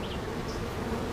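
Honeybees buzz in a steady, close drone around an open hive being inspected on a North Carolina farm, a continuous hum with no talking.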